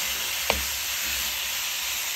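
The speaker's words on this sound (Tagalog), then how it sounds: "lagyan ko na ng karne, yung chicken, at saka yung sayote" Chicken and sayote land in a hot pan on a gas stove, setting off a loud, steady hissing sizzle with a single sharp clink near the start.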